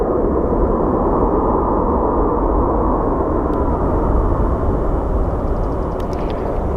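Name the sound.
plane landing at Phoenix Sky Harbor airport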